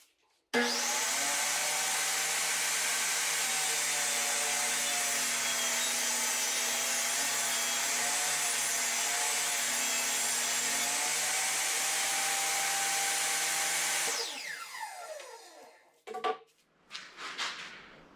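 A table saw trims the bottom off a beetle-damaged log in a workshop, a loud steady whine held for about fourteen seconds before it spins down. Brief clatter follows.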